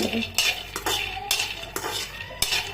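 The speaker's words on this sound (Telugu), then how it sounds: "పల్లీలని ఇలా వేయించుకోవాలండి." Peanuts roasting in a pan are stirred with a metal utensil, giving repeated scraping and clinking strokes at a steady rhythm with a soft rattle of nuts between them, close and fairly clear, with no talking.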